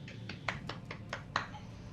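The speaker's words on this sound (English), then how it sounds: "golf clap for you there" A soft golf clap during a tabletop role-playing game session, several light, sparse claps spaced unevenly, faint and close, over a quiet room background.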